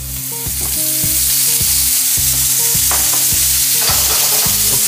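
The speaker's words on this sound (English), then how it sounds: "Caramelize the cut side of the tomatoes." Halved tomatoes sear cut side down in a hot oiled pan for ratatouille, giving a loud, steady sizzle and crackle that runs the whole time with no voices.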